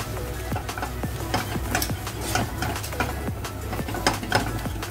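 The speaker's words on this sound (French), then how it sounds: "Et je continue à mélanger jusqu'à qu'elle devienne une sauce béchamel." Spoon stirring tartare cheese sauce in a pan over low heat, repeated scraping and clinking of utensil against metal in an irregular rhythm, close and moderately quiet.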